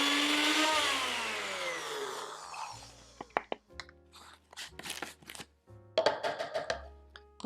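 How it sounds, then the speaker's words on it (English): A blender whirs loudly for about two seconds, its pitch falling as the motor spins down while dates are pulverized for a spicy dipping sauce. Knocks, clatters and handling noises follow. "we're just gonna blend this up until that date is completely pulverized"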